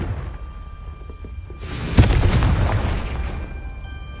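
A Confringo spell explosion in the video game Hogwarts Legacy starts with a rising whoosh, then a single sharp, loud blast with a deep rumbling tail that slowly fades, over a quiet background hum.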